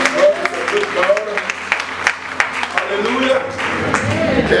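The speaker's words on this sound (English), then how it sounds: "Give God another round of applause." Church congregation applauding during a worship service, a steady clatter of clapping running the whole time with a voice speaking over it.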